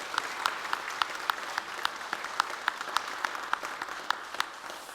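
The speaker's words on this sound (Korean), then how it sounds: "그들을 향해서 한 번 더 박수합니다" A church congregation applauds during a New Year prayer meeting, dense clapping from many hands with sharp individual claps standing out, steady throughout at a moderate distance.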